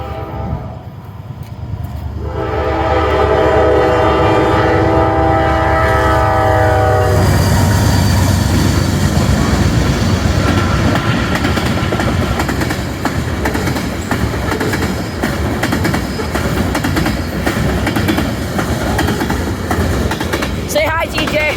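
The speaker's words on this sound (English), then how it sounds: "that train horn is really loud" A train passes a crossing and blasts its loud horn in long sustained tones, then rumbles and clatters steadily close by for many seconds, with a voice briefly heard.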